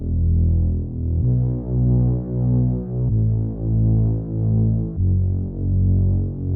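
A heavy bass synth made in FL Studio with saturation and distortion, deep sustained tones with rich harmonics pulsing in a slow rhythmic pattern and shifting pitch every couple of seconds, loud and alone.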